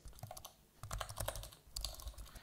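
Computer keyboard typing plays as a sound effect: rapid, light key clicks in a steady clatter, close and fairly quiet, with a short pause near the middle.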